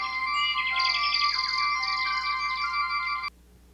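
A demo song plays from the built-in speaker of a phone model with a louder speaker: a bright, chirpy synthesized melody of quick repeating notes that runs steadily, then cuts off abruptly near the end.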